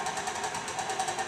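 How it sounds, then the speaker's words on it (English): An electric mixer runs on slow speed through chocolate chip cookie dough, a steady close whirring hum with a quick rhythmic pulse throughout the short stretch. "Then we'll give that a mix, kind of on slow speed."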